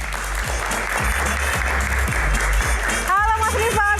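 Audience applause fills a studio at an evening talk show as a rally-driver guest is welcomed: steady, loud clapping throughout, with a host's voice coming in over it near the end.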